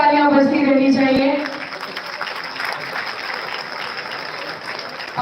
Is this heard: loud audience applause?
yes